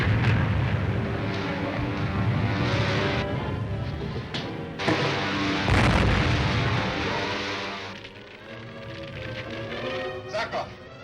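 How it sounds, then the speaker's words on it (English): Bomb dropped from an enemy bomber striking near a palace in a 1940 science-fiction serial: loud, sustained rumbling blast with broadband roar, a second surge of booming midway and a fading tail, with voices talking over it. "There was an explosion."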